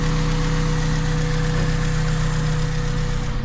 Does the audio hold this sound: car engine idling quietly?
yes